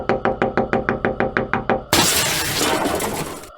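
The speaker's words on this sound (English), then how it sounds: "The window cracked. A spiderweb of fractures spread across the glass like veins." A car window at night is pounded about fourteen times in a steady, rapid rhythm of sharp knocks, then cracks and shatters in a loud, sustained crash of breaking glass that fills the rest of the moment.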